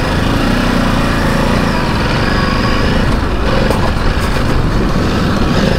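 A Ducati DesertX Rally or Himalayan 450 Rally motorcycle rides a rough off-road trail, its engine droning loudly and steadily up close, with the pitch wavering slightly over rough ground.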